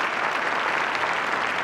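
At a Neenah High School holiday concert, an audience applauds for the jazz band, a thick, even wash of clapping heard on its own.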